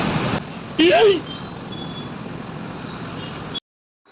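Truck reversing beeps sound in a short loud burst over steady road traffic noise in a jammed morning street, the rumble continuing until it cuts off abruptly.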